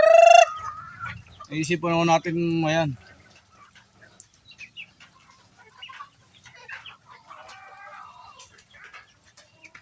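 A mother hen with newly hatched chicks on a rainy farm, giving a few loud, throaty clucks near the start, then faint scattered peeps and rustles, with someone speaking briefly over it.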